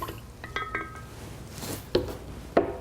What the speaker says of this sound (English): Mix the solution